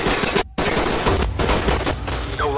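Rapid automatic gunfire in the tactical shooter Ready or Not, loud and close, a dense sustained burst with one brief pause before firing resumes.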